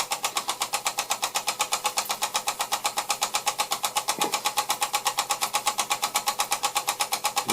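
A Bing 1393/5 toy steam engine runs at a steady rapid chuff, evenly spaced beats close and loud without pause, alone with no voices.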